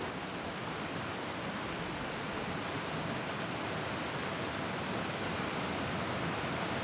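Steady hiss of a waterfall in Genshin Impact Mobile, a dense, even rush of water that holds at one level without break or variation.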